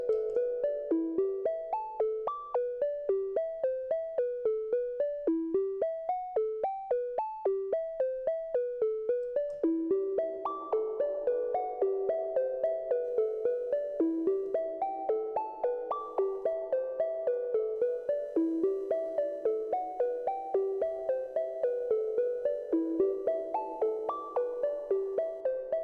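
A synthesizer plays dry with no reverb, its clean, plucky stepping notes repeating in a steady melodic pattern with a lower line joining partway through, moderately quiet and with no voices.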